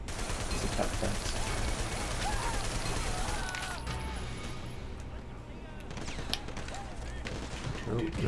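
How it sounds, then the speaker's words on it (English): Gunfire from the video game Triad Wars plays steadily at close range throughout a nighttime chain-link fence area, a dense continuous clatter of shots mixed with game noise, with voices talking over it. "Apparently I'm incapable of shooting through a chain link fence."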